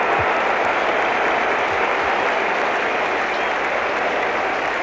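A cricket crowd in the 1970s applauds a boundary four with steady, broad hissing clapping, continuous and fairly loud throughout with no talk over it.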